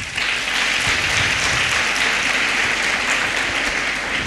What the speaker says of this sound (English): I just want to join your teachers to really give a round of applause to these presenters